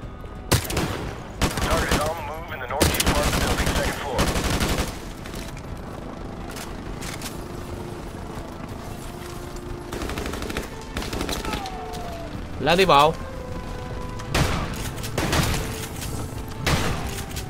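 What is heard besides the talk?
helicopter minigun gunfire in video game Call of Duty 4 Remastered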